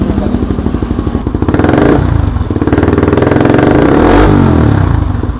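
A motorcycle with an open-type exhaust revs hard close by, its loud throaty blat rising and falling in two long swells over a steady rumble, with no voices.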